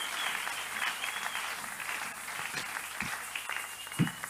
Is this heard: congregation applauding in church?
yes